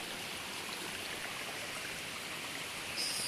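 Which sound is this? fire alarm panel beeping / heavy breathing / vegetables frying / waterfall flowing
waterfall flowing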